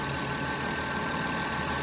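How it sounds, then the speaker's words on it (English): The engine of a 1993 Dodge Intrepid ES idles in a steady, close, even hum with a faint rhythmic ticking, unbroken and with no talking over it. "it's running now, of course, but the engine is super clean."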